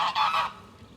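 Geese on the old River Nene at March, near Wigston Bridge, honking in two or three quick loud nasal calls that cut off abruptly into quiet riverside background.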